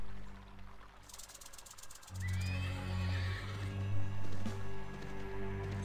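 A horse in the western video game Desperados: Wanted Dead or Alive gives a loud, close whinny over a quiet game background, with faint hoof clatter around it.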